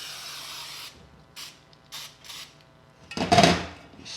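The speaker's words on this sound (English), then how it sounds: "your spray doesn't seem to be working that well today." A cooking spray can hisses in a few short, sputtering bursts, weak at first and not spraying well, then one stronger spray near the end.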